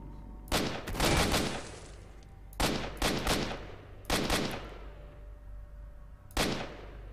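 Gunfire in the video game STALKER: Shadow of Chernobyl: four loud, sharp bursts of shots about two seconds apart, each trailing off into an echoing decay over a steady low background hum.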